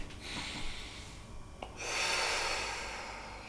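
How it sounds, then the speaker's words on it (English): Slow, deep breathing during seated wheelchair yoga meditation: a soft inhale, then a long, airy exhale close to the microphone, with no talking. "So we're going to take a couple of deep breaths in here."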